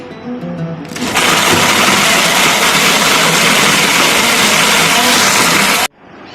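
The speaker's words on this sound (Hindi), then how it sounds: "अब इसको बंद करके इसको ब्लेंड कर लेंगे।" A blender grinds raw green mango chutney with chili powder and a little water, starting with a loud, steady whir that runs for about five seconds and then cuts off abruptly.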